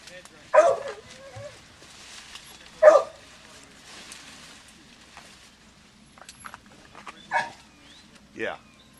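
Hunting dogs in brush give a few scattered, sharp barks and yips at middle distance, spaced several seconds apart over a quiet outdoor background.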